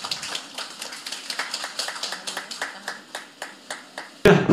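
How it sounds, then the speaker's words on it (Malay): Audience applause in a hall, a steady patter of many hands clapping with rhythmic peaks, moderately loud, ending in a sudden louder burst. "Boleh kita berikan tepuk tangan sekali lagi?"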